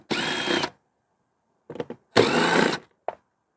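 A power driver with a 5/16 socket spins out the cover screws on a GENMAX GM9000iED dual-fuel generator, giving two close, loud whirring bursts separated by short pauses and brief clicks.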